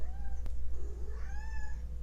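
A house cat meows close by, two drawn-out, rising calls with a short sharp tap between them, over a low steady hum indoors.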